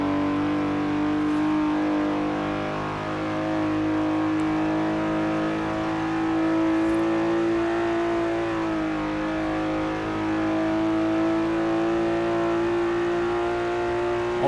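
A BMW E34 M5 engine in Forza Horizon 4 holds a sustained, steady high drone, with the pitch shifting slightly up and down, loud and continuous with no talk.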